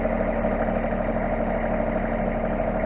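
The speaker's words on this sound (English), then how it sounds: "It's going to be a great tractor for this farm." A Massey Ferguson 1526 compact tractor's engine idles close by, a loud, steady, even drone with a constant low hum that runs unbroken throughout, with no talk.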